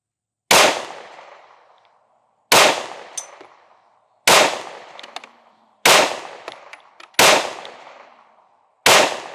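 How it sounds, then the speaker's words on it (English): Six sharp, loud pistol shots from a compensated Sig Sauer carry handgun at an outdoor range, fired one at a time at slow, roughly two-second intervals, each crack followed by a short ringing decay, with no talk. "Now, here's the comped version. We'll do the same thing. We'll do 7 shots."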